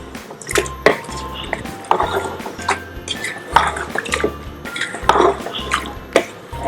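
About one and a half glasses of water poured into a karahi holding chicken and turmeric powder: splashing, trickling liquid broken up by clinks and knocks against the metal pot, fairly close and loud throughout.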